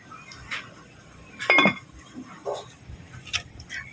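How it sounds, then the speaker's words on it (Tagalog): A metal lid clanks down onto a cooking pot in a home kitchen, one bright ringing clink followed by softer taps and scrapes, fairly quiet. "Pagkatapos nito ating takpan muna."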